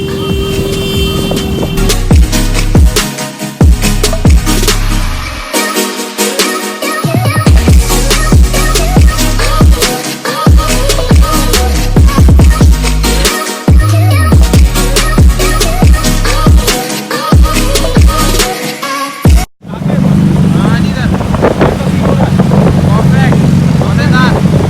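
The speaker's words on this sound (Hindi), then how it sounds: "शाकिब को उसके साउंड बहुत ज़्यादा पसंद आ रहे हैं, बहुत ज़्यादा लाउड है ना," A loud Suzuki Hayabusa superbike engine on a city road, revving hard in repeated surges and dropping back between them, close to the microphone with wind buffeting. After it cuts off, a quieter engine hum continues.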